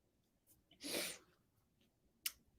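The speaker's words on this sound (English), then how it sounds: "I have to sneeze." A single person sneezes close by, a short breathy intake followed by a burst of sharp noisy exhalation, then a brief sniff or snort afterward in an otherwise quiet room.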